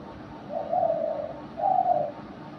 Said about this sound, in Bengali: দেখেন আমার শিকারি ঘুঘুটা কেমন ডাকে।